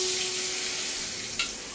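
Spices sizzle in a pan over low heat for a Maharashtrian taro leaf curry, a soft continuous crackle with a brief stir or scrape near the end, no voices.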